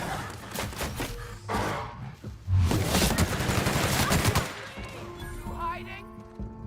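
Sniper gunfire cracks out in The Outer Worlds video game, a cluster of loud shots and booms through the middle of the clip, with a voice speaking around them.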